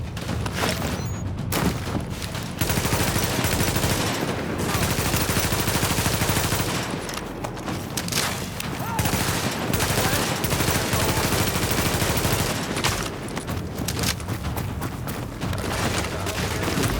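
Heavy gunfire in The Division video game: sustained automatic bursts and rapid shots pile up loud and dense, with short gaps between volleys across the whole stretch.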